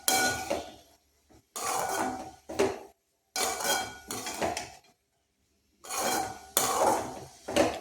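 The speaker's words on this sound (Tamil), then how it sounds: "இதை வச்சு 1 நிமிஷம் சிம்லேயே வச்சு கிண்டி விட்ருவோம்" Karamani (black-eyed pea pod) stir-fry being stirred in a pan with a metal spoon, heard as close, clattering bursts of scraping and clinking separated by short silences, with no talking.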